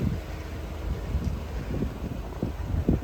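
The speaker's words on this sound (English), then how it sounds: "I'm sorry if it's windy, it's a little bit of a breezy day today" Steady wind on a breezy day in the Lincolnshire Wolds, gusting and buffeting against a microphone, a low continuous rumble with no voices.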